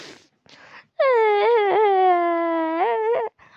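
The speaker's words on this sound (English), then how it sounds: "I hear Rosepink crying." A cartoon character's loud, sustained wailing cry with a wavering pitch rises after brief quiet and holds for about two seconds before breaking off, with faint talk around it.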